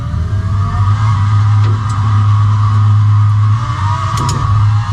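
A racing simulator car engine drones steadily while lapping the Vallelunga circuit, a loud sustained hum holding an even pitch throughout, with no talking.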